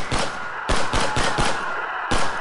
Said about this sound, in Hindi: Police started firing on crowd.